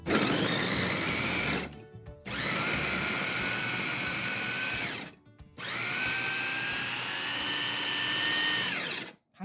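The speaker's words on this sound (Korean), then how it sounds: "믹서기로 갈아요." A blender grinds potatoes loudly in three long bursts, its motor whine steady and close, with brief pauses between runs.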